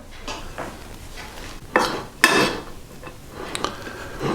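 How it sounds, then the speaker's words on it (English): A spoon scrapes and knocks in a pan as egg fried rice with pepper is mixed, giving a few louder clanks between quieter stirring sounds, close by with no talk. "I'm just going to mix all of that in to make sure that I've got the all of the rice coated"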